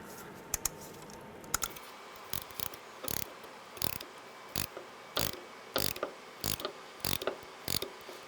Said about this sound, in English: The idea here is just to push this piston back into this area here as flat as possible